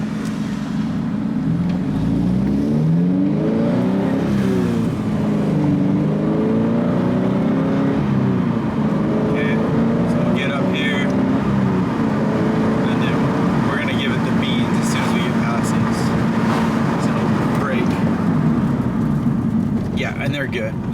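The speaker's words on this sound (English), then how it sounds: "So we'll do another takeoff here, and then we'll put the brakes on." A Scion FR-S engine rises and falls through repeated accelerations and braking, with road and tire noise and brief squeaks, steady and close throughout.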